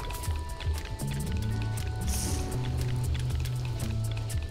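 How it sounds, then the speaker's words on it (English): Soup pours in the Donut County video game, a soft liquid trickle and splashing under repeating game music tones, moderately loud and continuous. "Pour some soup."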